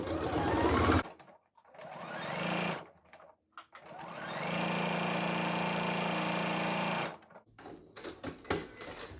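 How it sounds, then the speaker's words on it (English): A sewing machine stitching a seam around a curve on comfy pants, with whirring bursts that start and stop, including one long steady run in the middle, close and fairly quiet. "stitch around that curve very carefully"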